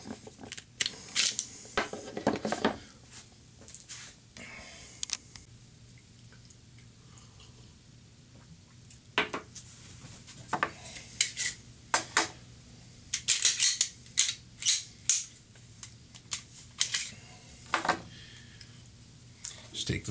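Glock pistol parts clack and click as a frame is taken off and fitted to an RTF2 upper, giving sharp, intermittent snaps and metallic taps over a quiet hum.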